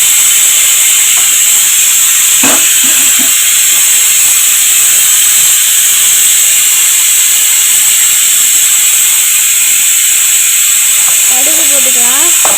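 Mustard seeds sizzle in hot oil for temple-style puliyodharai tamarind kuzhambu, a loud, steady hiss filling the whole stretch, with a brief voice near the end.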